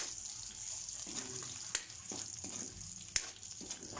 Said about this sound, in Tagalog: Nilagay na natin yung bawang, sibuyas, at saka yung ating karne, guys.